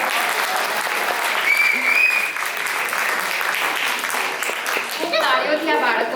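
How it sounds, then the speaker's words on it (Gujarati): A hall audience at a Diwali cultural performance claps for children after their singing, a dense, sustained burst of many hands close and loud, with faint voices and a few cheers underneath. "તાળીઓથી આ બાળકોને વધાવજો."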